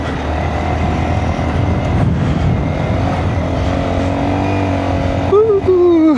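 A Honda Monkey motorcycle fitted with Shinko Mobber tires climbs a rough, nasty road into strong wind, its small engine buzzing and revving close by, with the pitch rising sharply near the end.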